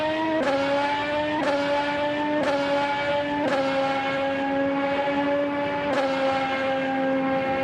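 A Formula 1 car accelerating hard out of a left-hander down the second DRS zone at the Azerbaijan Grand Prix, a loud high-pitched engine whine rising through rapid gear changes, each upshift dropping the pitch before it climbs again.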